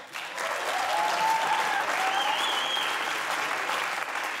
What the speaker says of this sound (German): Nochmal einen riesigen Applaus.